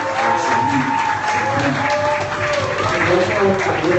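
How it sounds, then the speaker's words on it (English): A crowd at a Nike Vault fan event claps and cheers loudly and continuously as a new Los Angeles Lakers player is introduced, with a host's amplified voice talking over the applause. "make some noise for the newest Los Angeles Lakers, the next NBA superstar,"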